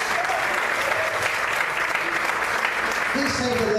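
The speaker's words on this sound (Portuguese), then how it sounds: "Você pode aplaudir a Deus?" Worshippers in a church clap together for God in a full, even burst of applause, with a voice heard over the clapping near the beginning and close.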